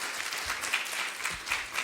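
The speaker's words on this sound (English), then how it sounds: "We have a final round of applause for all the speakers and their contributions." A seated audience at a Cambridge University panel talk gives the speakers a brief, even round of applause, a steady wash of many hands clapping at moderate distance.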